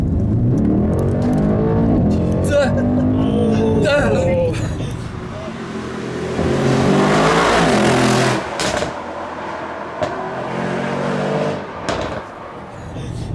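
A 2019 Mercedes-AMG E63 S surging forward under quick acceleration, its engine note rising beneath nearly constant talk from people inside the car.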